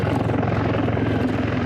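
A Sikorsky S-70 C-2 helicopter, the civilian cousin of the UH-60 Black Hawk, flies close by, its rotor giving a loud, fast, steady chopping thump throughout.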